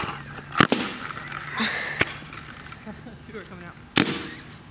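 A paintball gun fires at cans outdoors, three sharp cracks spaced irregularly over a few seconds, with people talking and exclaiming between shots.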